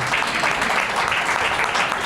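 A congregation at a fasting prayer service claps loudly and steadily, a dense, continuous wall of applause filling the whole stretch with no break.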